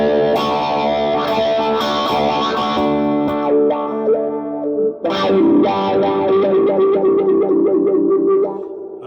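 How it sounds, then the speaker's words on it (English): A made-in-Japan Fender Telecaster with a Bigsby tremolo, played through a wah-wah pedal with overdrive. Loud, driven chords and notes sweep continuously with a vocal-like wah, broken by one brief pause midway. "usually a wah-wah sounds better with a bit of overdrive."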